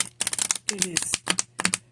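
A thick tarot deck is shuffled by hand in quick, dry bursts of card flutter and clicks, close and crisp, with short pauses between strokes.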